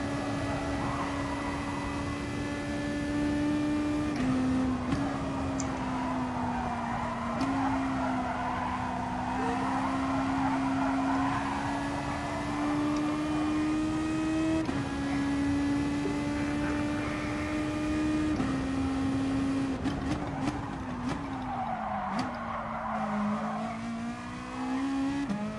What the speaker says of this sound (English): You're gonna drop down your gears more now, so you can keep the revs going?